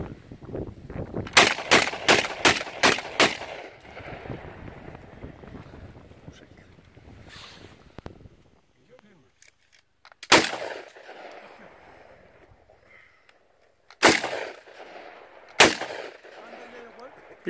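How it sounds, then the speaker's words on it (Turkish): Rapid series of loud, sharp shotgun blasts from an Uzkon UNG12 firing Özkursan No. 9 shells outdoors, six quick shots in a burst followed by three more spaced single shots, with wind noise between. "Seri atış yapacağım."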